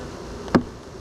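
A bee near a beehive gives one short, sharp buzzing burst up close over a faint steady background hum.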